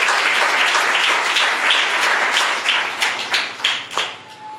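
An audience at a Telugu Christian sermon claps together, a lively burst of many hands that holds strong and then thins into scattered claps trailing off near the end.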